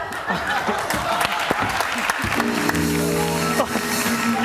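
A TV studio audience applauds after a difficult basketball hoop throw on a Turkish entertainment show, steady clapping filling the clip with some talk and chuckles mixed in.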